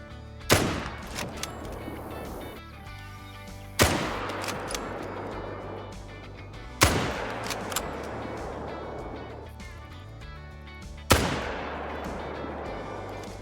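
In the Call of the Wild hunting video game, four loud rifle shots ring out at spaced intervals of roughly three seconds, each a sharp crack followed by a long rolling echo fading across open terrain.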